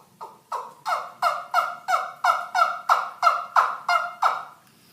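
A two-piece turkey call is played close and loud, giving a steady run of about a dozen rhythmic yelps in even succession with no voices.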